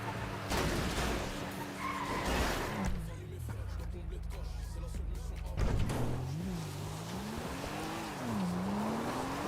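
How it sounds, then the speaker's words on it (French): Car skidding and crashing in the FiveM game, with a rising-and-falling tire squeal over engine drone and a sharp impact near the middle, a voice talking over parts of it. "Je casse un peu la voiture pour que vous voyez."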